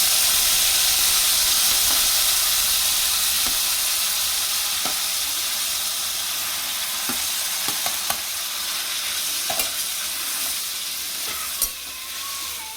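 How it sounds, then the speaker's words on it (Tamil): Tomatoes drop into hot oil where asafoetida has just crackled, for a tomato pickle, raising a steady, loud sizzle and hiss of frying with occasional sharp pops and stirring clinks throughout, no voices. "பொரிஞ்ச உடனே இப்போ தக்காளி போடணும்"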